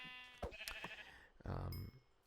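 Sheep bleating in the block-building game Minecraft, a few short bleats close by with brief game sounds between them and a burst of noise near the end.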